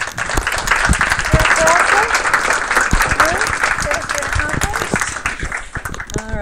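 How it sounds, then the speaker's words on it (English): An audience at a game studio milestone review breaks into loud, sustained applause with scattered whoops and cheers. The clapping stays dense and close throughout, with some voices rising over it. "another round of applause for everybody"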